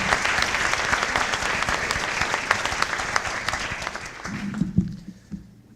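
An audience at a community health summit applauds to welcome a speaker. The clapping is steady and full, then thins out and fades near the end.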